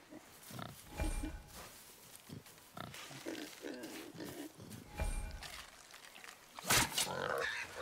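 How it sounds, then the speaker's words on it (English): A wild boar grunts and snorts in God of War, with several short, throaty bursts scattered through the scene while characters talk nearby. "Wild boar's hide is thick."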